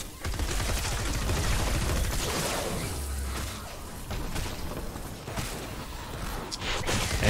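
Rapid, dense gunfire from the video game Fortnite: Save The World in an amusement park area, continuous loud overlapping shots and whooshing blasts for the whole stretch.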